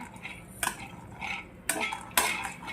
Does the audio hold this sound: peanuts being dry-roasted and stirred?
yes